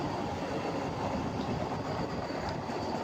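Recorded from aboard a moving train near a Chennai station, a steady, loud rumble and roar of wheels on the track fills the whole stretch without speech.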